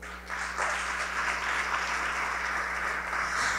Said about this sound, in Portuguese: Dê uma grande salva de palmas a esse Deus.